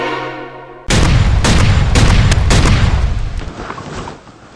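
Handgun shots fired in a police shooting reenactment, a loud burst of several close, sharp reports in quick succession that echo and fade over a few seconds.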